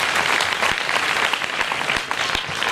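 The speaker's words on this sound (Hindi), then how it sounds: "संदीप जैन शौर्य के लिए एक बार सब जोरदार तालियां बजाएं" A large audience at a Hindi poetry recital during a religious gathering applauds in a loud, steady, dense roar of clapping that lasts throughout, with no break.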